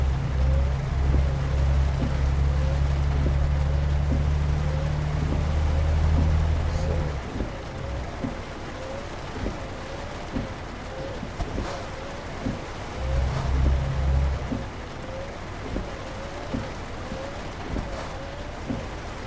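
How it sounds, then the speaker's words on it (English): Steady rain falls in a truck driving video game, a broad wash of hiss heard alongside a low engine hum that drops out and returns partway through, with no talk. "when it decides to rain, it rains hard"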